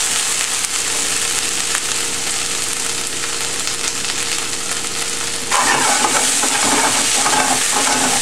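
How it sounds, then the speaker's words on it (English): Tofu with chili pods, ginger and garlic stir-fried for Kung Pao tofu, a loud, continuous sizzle with stirring, growing sharper and crackling after fresh ingredients hit the hot pan. "now that these have stir-fried for a minute, we'll go ahead and add our chili pods, our ginger, and our garlic"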